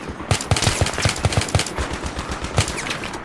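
Rapid bursts of machine gun fire ring out in Battlefield 3, sharp evenly spaced shots in quick succession, loud and close, with battle noise in the background.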